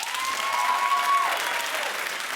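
A studio audience breaks into steady applause during a talk show segment about an EMA performance, a full continuous clapping wash, fairly loud, with a faint tone in the background.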